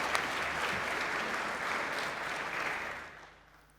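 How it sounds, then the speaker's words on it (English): Audience applause fills a conference hall at the CloudFest 2023 event, a dense, steady wash of clapping that holds for about three seconds, then tapers off and fades out near the end. "Please, get applause for Raphael."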